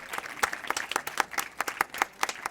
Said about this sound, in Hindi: प्लीज़ आपकी ज़ोरदार तालियां बजती रहें महेंद्र जी के लिए।